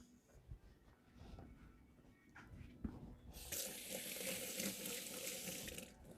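Hands being washed under a running kitchen tap while cooking a West African peanut stew; the water gushes on about halfway through and streams steadily and close, following quiet handling noises.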